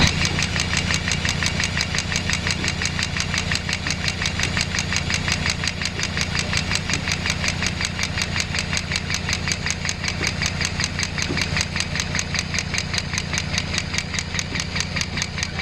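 Mini excavator engine running steadily at a constant idle with a dense, even rhythmic knock while the loosened track is spun, loud and continuous throughout with no talk.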